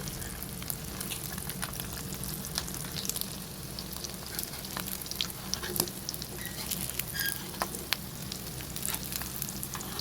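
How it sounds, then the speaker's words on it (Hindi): Beef shami kebabs fry in hot oil on a griddle over medium heat, giving a steady close sizzle with constant fine crackle and occasional sharper pops throughout. "अब कबाब को दरमियानी आंच पर फ्राई करेंगे।"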